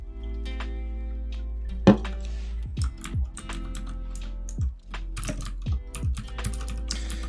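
Computer keyboard typing in bursts of close, crisp keystrokes, with a few louder clacks, over a steady low hum.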